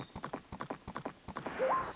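Horse hooves clip-clop at a steady trot in a Zelda video game, loud and rhythmic over a faint constant tone, with a short whinny near the end.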